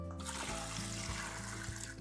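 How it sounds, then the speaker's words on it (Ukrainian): Water poured into a jar of sliced apples being prepared for fermenting, a steady close trickle running continuously with faint gurgling throughout, with no voices. "Бачите, треба ще трішки води додати. Додаю ще води."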